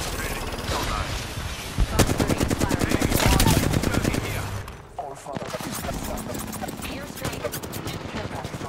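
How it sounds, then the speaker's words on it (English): Enemy gunfire in a video game: rapid, loud bursts of automatic shots crackling close by, nearly continuous, with a brief lull near the middle before the firing resumes. "Taking fire. Joker's shooting at me."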